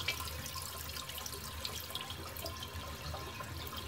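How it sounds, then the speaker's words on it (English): A toilet in a rental home flushing and draining, a steady rushing wash of water running continuously and evenly at close range with no talk over it. "And then flush the toilet here."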